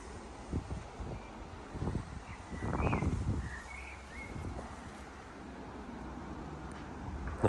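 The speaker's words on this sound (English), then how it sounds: "Might be a bit windy" Wind gusts buffet the microphone in low rumbling bursts, with faint bird chirps in the distance.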